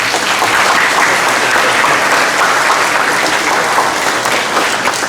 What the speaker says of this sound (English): And I take it that needs a round of applause.